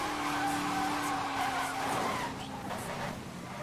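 A car drifting in NFS Most Wanted 2012 keeps up a sustained, whining tire squeal over a droning engine for several seconds, close and steady, easing slightly near the end.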